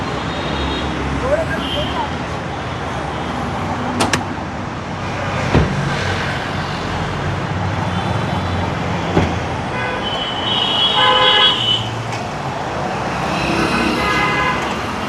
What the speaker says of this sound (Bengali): বাবা ইঞ্জিনটা স্টার্ট আছে, এত পুরোনো গাড়ির অরিজিনাল ইঞ্জিন যে এত সুন্দর স্মুথ সাউন্ড